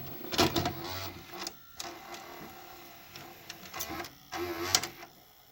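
Mechanical whirring and clunking of a tape being drawn into a 1994 Sanyo VHR-5420 VCR, with motor buzz and clicks rising and falling over several seconds, fairly close.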